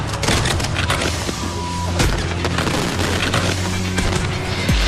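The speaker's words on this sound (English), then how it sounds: "The fireworks started too soon." Fireworks bursting at a pyrotechnics competition show, a steady barrage of loud booms and crackles with rumbling between blasts, heard without speech.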